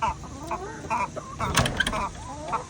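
Hens cluck and murmur close by in a backyard coop on a summer day, several short overlapping calls and soft churring notes in quick succession.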